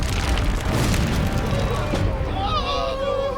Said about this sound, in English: Then they destroyed his temple.